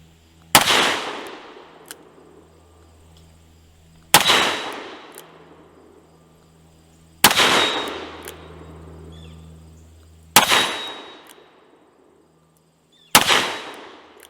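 A Ruger GP100 revolver fires hot .357 Magnum handloads: five sharp, loud single shots spaced about three seconds apart, each with a ringing decay.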